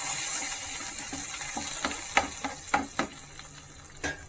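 Curry leaves crackle and sizzle in hot oil with garlic, a steady frying hiss broken by several sharp pops and spits, close and fairly quiet, with no one talking.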